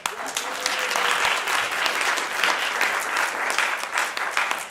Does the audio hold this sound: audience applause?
yes